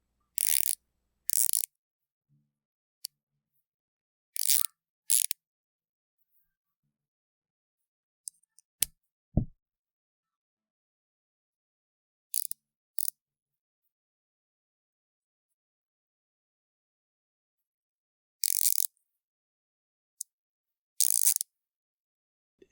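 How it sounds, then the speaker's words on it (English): Long, skinny 1/4-inch ratchet with a bit driver on the opposite end, worked in short bursts: brief bright ratcheting clicks separated by long silences, with one low thud midway, close and clear. "it's a bit driver on one end and a 1/4-inch ratchet on the other end"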